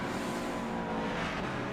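Several GT3 race cars, a Ferrari and a Corvette, roar through a corner in Gran Turismo Sport, with a steady, dense engine drone running loud and unbroken throughout.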